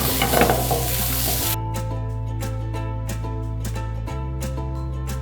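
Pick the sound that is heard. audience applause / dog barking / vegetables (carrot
vegetables (carrot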